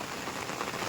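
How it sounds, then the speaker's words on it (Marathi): Heavy monsoon rain pours down beside a pond in Konkan, a dense, steady hiss of drops striking water and ground with no break across the short stretch. "तर आता तुमका मी दाखवतोय आमच्या तळ्यातलो पाऊस."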